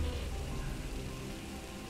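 Rain falling in the video game Phantom Doctrine, a soft, steady patter on surfaces with a low rumbling undertone, faint and continuous.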